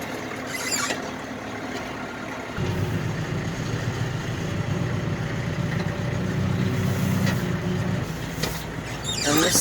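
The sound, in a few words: tractor engine idling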